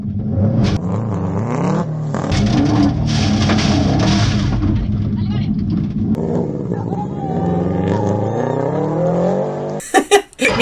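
A Subaru rally car races on a stage at the Rally Vidreres - Maçanet and runs off the road, its engine revving hard and roaring close, then cutting to bumps and knocks near the end.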